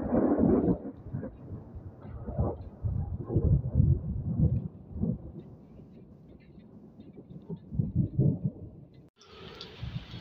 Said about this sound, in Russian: Вот это гроза.